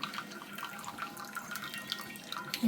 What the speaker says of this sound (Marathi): सरळ सगळं पाणी आता ओतून टाकते